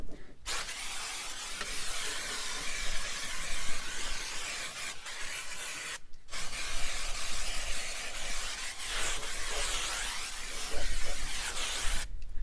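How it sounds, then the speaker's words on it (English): Brake cleaner hisses from an aerosol can onto the front fork of a 1994 Harley-Davidson FLSTN, long bursts of spray broken by short pauses, close and fairly loud with no talking. "Spray with some brake cleaner."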